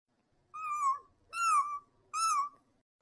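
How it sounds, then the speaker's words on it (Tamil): A cartoon cat cries out three times in drawn-out, plaintive meows, each about half a second long and evenly spaced, clear and alone against silence. "ஷாலு ரொம்ப நேரமா கிட்டி கத்திக்கிட்டே இருக்குமா"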